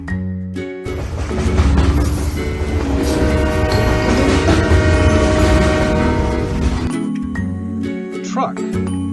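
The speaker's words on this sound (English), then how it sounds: "Train." A train rumbles past with a loud, steady roar and horn-like tones, rising and then fading over several seconds. Soft background music plays along with it.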